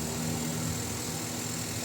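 A Toyota Wigo engine idles steadily nearby, a constant low hum with a faint high whine, unchanging throughout.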